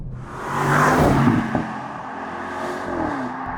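An Audi RS 6 Performance engine and gearbox pull hard under acceleration, a close, rising engine roar with a gear change partway through, heard alone without talk.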